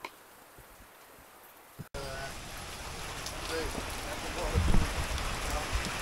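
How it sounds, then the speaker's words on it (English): Heavy rain from Hurricane Milton pours down in a dense steady roar after an abrupt start, close and loud with gusty wind, and a person talks over it. "It's just a lot of rain coming down right now"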